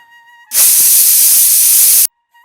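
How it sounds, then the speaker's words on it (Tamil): A pressure cooker whistle lets out one loud, harsh burst of hissing steam lasting about a second and a half, then stops abruptly; a faint hum sits around it. "குக்கர் விசில் சத்தம் மறுபடியும் கேட்டுச்சு."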